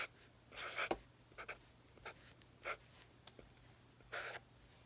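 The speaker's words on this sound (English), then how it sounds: "So there's my picture of Jack and Annie as they get ready to walk on the moon." Pen scratching across paper in short, quiet bursts, a few separate strokes and scribbles against a low steady hum, close and faint.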